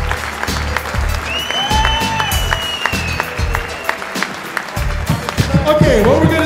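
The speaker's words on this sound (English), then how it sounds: "Come on, give them all a big round of applause." Live comedy-show audience applauding steadily for the performers, a dense wash of claps with some cheering and whistles, sustained at a fairly loud level throughout, with crowd voices mixed in.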